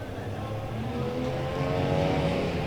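Race cars circling a short oval track at a Mid-Am night feature, engines droning and rising in pitch as the pack accelerates down the back straightaway, a continuous layered rumble heard from a distance with faint voices underneath.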